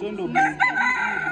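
A bantam chicken crows at the Nairobi show grounds, one loud, drawn-out call close by, with a short spoken phrase alongside it.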